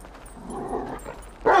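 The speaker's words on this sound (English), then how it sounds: "Fuck you and your stupid dog!" Dog in the GTA 5 video game giving a short whimpering yip followed by one sharp, close bark at the end, brief and fairly loud, with no speech over it.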